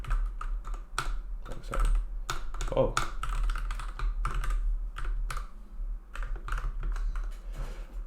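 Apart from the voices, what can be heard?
computer keyboard typing Python code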